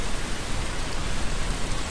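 Steady rainfall hisses evenly throughout, a dense, broadband wash of drops on surfaces with no pauses or voices.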